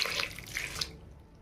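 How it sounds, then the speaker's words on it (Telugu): Water being poured onto jaggery in a pan for coconut burfi, a soft splashing trickle for under a second that stops into quiet. "కొంచెం వాటర్ పోసుకుందాం."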